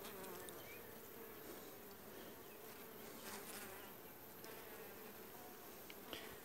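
Honeybees from a weak colony buzz steadily inside an open hive during an inspection, a dense, constant hum that stays even throughout with no talking.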